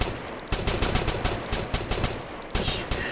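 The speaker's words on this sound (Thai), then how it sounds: "เสียงปืนแม่งอยู่อีกฝั่งหนึ่งกูงงเลย ใครยิงวะ" Rapid bursts of gunfire in the video game OutlawZ rattle continuously through the short span, dense repeated shots at fairly close range with almost no talk.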